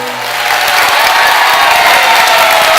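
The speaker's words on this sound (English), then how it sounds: "I'm glad you're applauding" Studio audience at a televised health talk show breaks into loud applause and cheering, a thick wash of clapping that swells quickly and holds strong throughout.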